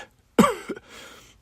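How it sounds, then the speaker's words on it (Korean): An elderly man gives a single harsh cough followed by a brief throaty catch and a softer trailing breath, close and fairly loud with no talking. "장인어르신은 말씀을 하시면서도 계속 기침을 하셨습니다."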